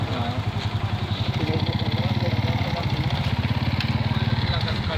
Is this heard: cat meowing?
no